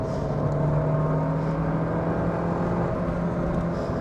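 Driving in second gear in a 24-year-old Ford Puma with the 1.7 engine, the intake producing a steady, smooth engine drone with a low hum beneath road noise, continuous and fairly loud from inside the cabin.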